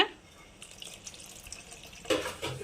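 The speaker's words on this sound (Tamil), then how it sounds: "தேவையான அளவு தண்ணி ஆட் பண்ணிக்கோங்க" Water is added to mashed lentils for a roadside-style tomato sambar, heard as faint trickling with a couple of louder pouring splashes near the end.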